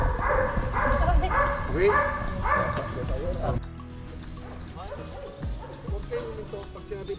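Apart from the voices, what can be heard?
K9 dog barking and whimpering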